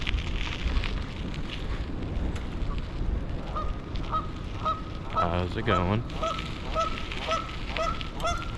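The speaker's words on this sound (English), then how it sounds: "Look, there's a goose." Goose honking in repeated short calls from roughly four seconds onward, over steady wind and road noise during an outdoor bike ride; a voice speaks briefly.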